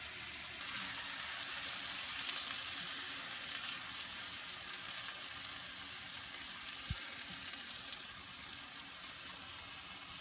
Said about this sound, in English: you're also going to add your tomatoes and the adobo sauce to taste to the pan